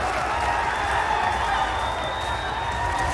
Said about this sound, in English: The crowd getting hyped.